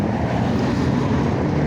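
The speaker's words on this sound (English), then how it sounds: "it's windy as shit today" Strong outdoor wind buffeting the microphone, a loud, continuous low roar and rumble with no break.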